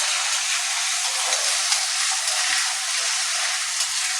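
Potatoes frying in a pan for a vegetable upma, giving a steady, close, broadband sizzle that hisses evenly throughout with no talk over it.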